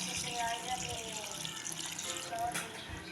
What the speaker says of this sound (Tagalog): Kapag ganyan na, maglagay tayo ng tubig.